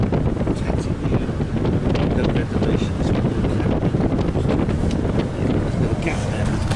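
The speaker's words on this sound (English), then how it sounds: "it's really windy" Loud, rough wind buffets the microphone in continuous gusts, a heavy rumbling roar that smothers everything else for the whole stretch.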